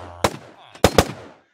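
A gun from a Minecraft gun mod firing, one sharp shot followed by a quick double shot, close and crisp with a brief faint tone between them.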